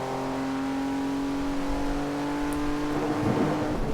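A heavy 2015 Volvo S60 Polestar drives in Forza Horizon 2, its engine holding a steady, loud droning hum with a slight rise near the end and no talking.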